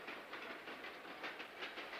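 A cartoon train rumbles along the tracks with a rhythmic clickety-clack, steady and fairly faint.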